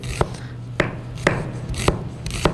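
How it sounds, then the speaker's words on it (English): A knife thinly slicing half an onion for a squid salad, five sharp crisp cuts at a steady rhythm against a cutting board, close and clear. "The onion, we only need half of this for this particular salad. And the most important part here is to slice it very thinly."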